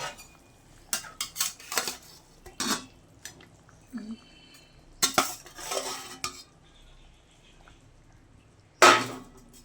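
Metal clinks and clatters from a pot lid being lifted and utensils moving over a simmering parshe fish and cauliflower-potato curry, in scattered sharp knocks with quiet gaps and a faint sizzle.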